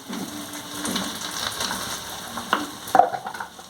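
Chopped onion and moringa flower sautéing in a pan, with a close, steady sizzle and a few louder stirring scrapes and pops.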